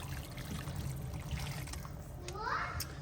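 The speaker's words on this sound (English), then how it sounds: "Adding 6 cups of water." Water is poured into a pot of turnip and meat curry, producing a steady trickling splash, with a voice talking faintly alongside.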